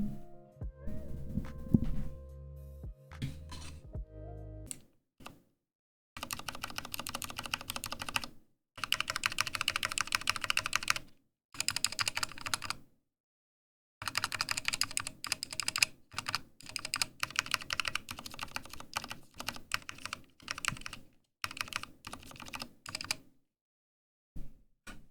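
Bursts of typing on an NK87 aluminum mechanical keyboard while its stabilized keys are tested, close and clear, with clacky keystroke runs separated by short silent pauses.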